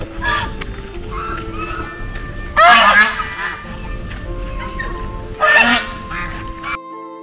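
Geese and ducks honk loudly in two strong bursts with softer calls between, near a lake in rural Purulia after rain, with other fowl around and steady background noise.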